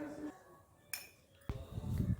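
A spoon scrapes freshly pounded ground paste from a mortar onto a plate, giving a few short metallic clinks and scrapes, close by and moderately loud, with a brief bright clink near the middle and rougher scraping toward the end.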